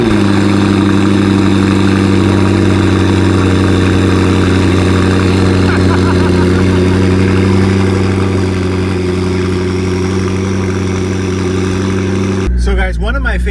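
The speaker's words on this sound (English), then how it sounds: "Let's get a cold start and hear what it sounds like." A McLaren fitted with a new exhaust cold starts and idles high and steady, a loud continuous engine drone with strong low hum, cutting off abruptly near the end.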